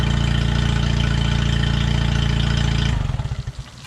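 A Yamaha 25hp outboard engine, bought cheap and running after carburetor adjustment, chugs loudly and evenly at close range, then is cut off near the end and sputters to a stop.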